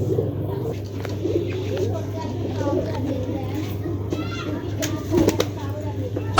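Pigeons coo softly near by amid a low steady hum, with children's voices and chatter in the background.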